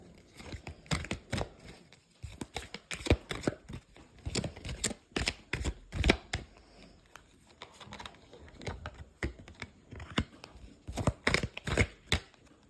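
Tarot cards shuffled on a small table, a run of quick riffling and slapping bursts close by, with brief pauses between handfuls and no talk.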